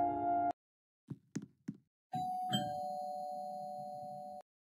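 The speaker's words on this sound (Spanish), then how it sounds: "Tocaré el timbre." A doorbell in the Roblox Brookhaven video game: a short electronic tone cuts off, three quick knocks follow, then a long sustained chime rings clearly for over two seconds before stopping abruptly.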